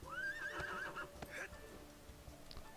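A horse neighs in the ArcheAge video game: one clear whinny rising and wavering at the start, then a short snort and a few soft hoof clops, fairly quiet, with faint background talk.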